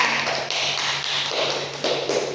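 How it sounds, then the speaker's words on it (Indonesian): Students in an Indonesian physics classroom applaud a classmate, a steady patter of many hands clapping that fills the room evenly for a couple of seconds, with no talk over it. "Kita kasih aplaus dulu ke Jessica ya."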